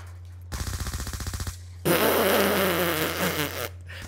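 Weapon fire in the video game Black Ops 2: a rapid burst of about a dozen evenly spaced shots, then a loud sustained roar of noisy blasts lasting a couple of seconds.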